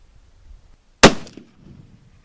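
A single sharp rifle shot from a .270 Browning X-Bolt Medallion, loud and close, with a brief echo trailing off into quiet outdoor background.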